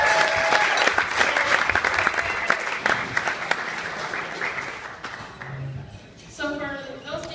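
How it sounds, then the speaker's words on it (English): Wedding guests applaud the couple with loud, dense clapping that gradually thins out, followed by a voice speaking near the end. "please join me in giving them a round of applause"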